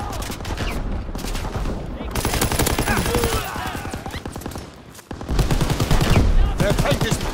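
Rapid bursts of gunfire near a tank in Call of Duty WW2, with dense, repeated shots rattling steadily across the battle, mixed with other combat noise and continuing loud throughout.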